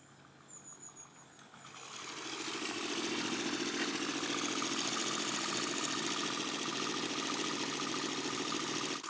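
A homemade bike fitted with a Stirling engine runs steadily, its continuous mechanical hum and rapid rhythmic chugging rising after a quiet start and then holding at a constant level, heard alone.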